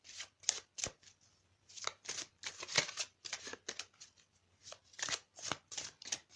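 Tarot cards, from an ascended masters oracle deck, riffled and shuffled close up in a steady series of crisp papery bursts with short pauses between, no talking.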